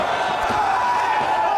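A wrestling crowd roars steadily at Abdullah the Butcher's retirement match in Canada, a dense, continuous wash of cheering and shouting at moderate loudness, with no talk on top.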